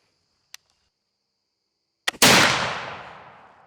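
A Traditions Deer Hunter flintlock rifle fires once: a faint click of the lock, a brief pause, then a loud sharp blast with a long decaying rumble, heard alone with no talk.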